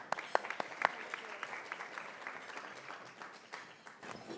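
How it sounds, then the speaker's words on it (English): Conference audience at a labor and employment law symposium claps for a panel, scattered applause of modest size heard from a distance and fairly faint. "Please give them a round of applause."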